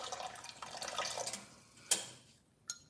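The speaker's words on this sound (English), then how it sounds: "Add just a little bit more water." Water trickles and splashes into a mixture at close range, a soft running pour that tapers off, followed by a couple of sharp clinks and drips, with no speech.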